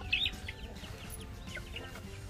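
Chickens wander near a house where a young elephant grazes, giving a few short, close clucks and soft calls in quick succession with no voices.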